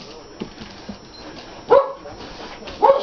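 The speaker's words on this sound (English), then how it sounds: "look at all you dogs" Dogs in a group bark in short, scattered bursts indoors, two louder barks standing out among fainter yips and shuffling.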